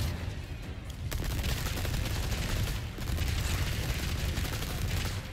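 Sustained, dense gunfire crackles throughout a battle in the video game Resident Evil 4 Separate Ways, with rapid overlapping shots and impacts at moderate loudness and no voices.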